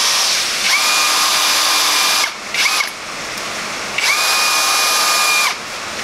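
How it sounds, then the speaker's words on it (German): Cordless drill spinning metal brake caliper guide pins to polish them while working on the rear axle of a BMW Mini; two long whirring bursts with a brief spin-up between, close and loud, no talking. "Ich mache die immer in Akkuschrauber."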